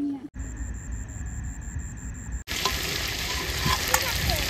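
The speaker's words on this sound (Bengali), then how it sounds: "মাংসটা ভালো করে কষিয়ে নিয়েছি" Meat frying in a pan at a riverside picnic, with a thin whine for the first two seconds, then a loud, steady broadband sizzle that continues to the end.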